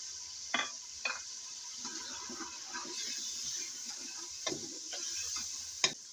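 Tomatoes and spices frying in a pan, a soft steady sizzle with a few sharp clinks of a spoon against the pan and scraping stirs, no talking.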